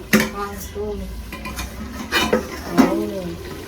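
Utensils scrape and clatter against a wok in a few irregular strokes while food is stirred, with a faint sizzle and a voice-like tones in the background.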